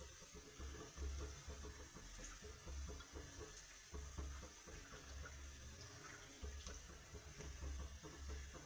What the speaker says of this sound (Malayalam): ഇനി ഇതിലോട്ട് നമുക്ക് നമ്മുടെ ഒന്നാം പാല് എടുത്തു വെച്ചേക്കുന്ന ഒന്നാം പാൽ ഒഴിച്ചു കൊടുക്കാം.